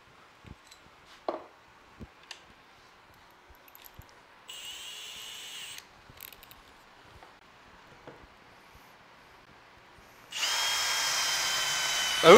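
A power drill drills in two bursts, a short whir near the middle and a longer, louder run at the end, set against quiet room noise and scattered small knocks.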